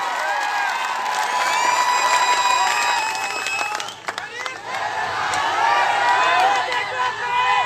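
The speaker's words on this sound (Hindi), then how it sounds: "जोरदार तालियों में इम्तियाज जलील साहब का इस्तकबाल करें।" A crowd at a political public meeting in Maharashtra claps and cheers, a sustained roar of applause with whoops and shrill voices rising over it, briefly dipping midway before swelling again.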